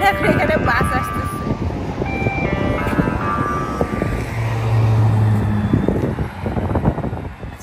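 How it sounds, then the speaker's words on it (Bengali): At Beaumont bus station in Winnipeg, a bus pulls in with an engine rumble and a series of electronic reversing beeps, while a voice talks nearby. "কারণ এখন এখানে বাস আসতেছে।"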